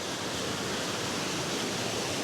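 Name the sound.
Ruskebe waterfall in Kenya, water falling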